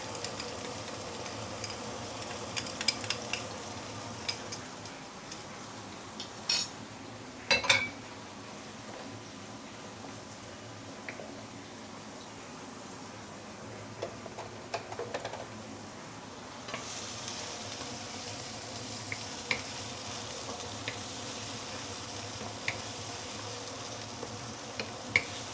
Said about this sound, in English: Once the oil is heated up, we can put in all the fresh herbs we cut just now.